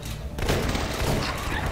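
Bursts of AK rifle fire in The Last Stand 2, a 2D zombie survival game, rattle out loud and close as a dense run of overlapping shots with thumping impacts.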